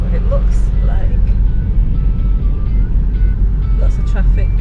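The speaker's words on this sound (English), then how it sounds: "Lots of traffic" City-centre traffic in Tirana, Albania, a steady low rumble of car engines and road noise on a busy narrow street, heard from inside a moving car, with a few faint horn-like tones and clicks.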